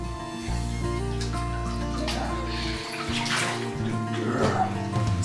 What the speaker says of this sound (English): Is that water?